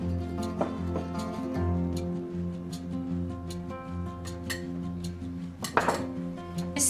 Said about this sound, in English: Just keep mixing it, guys, till you incorporate all the ingredients together.